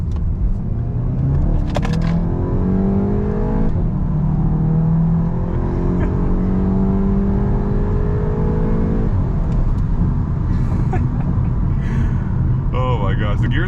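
A Volkswagen MK8 GTI S in sport mode accelerates hard, its engine note climbing steadily through long gears with brief dips at the shifts, heard loud and continuous from inside the car.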